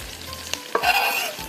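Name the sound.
vegetables added to a hot pan with spaghetti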